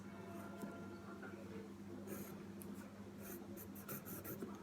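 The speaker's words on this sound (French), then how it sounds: "je prends un crayon, je dessine un vase" A pencil sketches the outline of a vase on paper in a watercolour class, giving faint, continuous scratchy strokes close to the ear with no talking.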